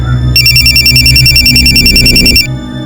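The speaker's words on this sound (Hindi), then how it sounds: "सर कोमल का फोन था" A mobile phone ringtone chirps in a fast, steady repeating electronic pattern for about two seconds, loud and close, over low background hum, then cuts off abruptly.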